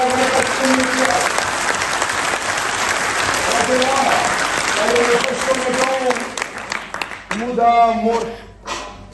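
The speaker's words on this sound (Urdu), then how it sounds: "ان کے لیے تالیاں بجائیں" Audience applause fills a hall at an all-Pakistan lawyers convention, loud and sustained for several seconds with a voice speaking over it, then thinning out near the end.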